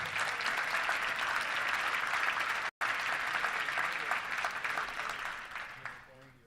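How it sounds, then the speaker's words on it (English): Touchdown Club luncheon crowd in Little Rock gives sustained applause for guests, broad steady clapping with a brief dropout midway and a voice emerging as it dies down at the end. "Let's give all of them a round of applause for being here."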